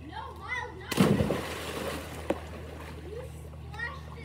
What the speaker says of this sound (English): You splashed it so much